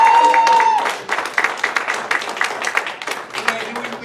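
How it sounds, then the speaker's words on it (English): Applause breaks out from a hypnosis show audience at the Four Queens in Las Vegas, loud, close clapping that rises after a tone and continues in uneven bursts. "Everybody give her a big round of applause."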